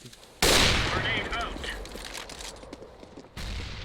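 Gunfire in the game CS:GO: a sudden loud burst of rapid shots fades into scattered reports, and a second burst breaks out near the end, while people talk over it.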